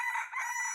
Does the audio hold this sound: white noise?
no